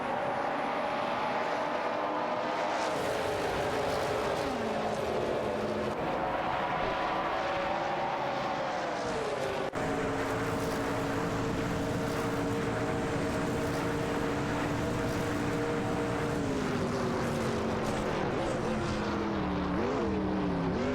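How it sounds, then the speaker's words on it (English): Video game race cars, including an Oldsmobile Cutlass and a Mercury Cougar XR7, droning continuously with engine tones that rise and fall in pitch as they shift and corner, moderately loud and uninterrupted, with no talking. "Haruto 5 and Kazushuk fighting for 6 with their Oldsmobile Cutlass CCA and Mercury Cougar XR7"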